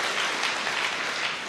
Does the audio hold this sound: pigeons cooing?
no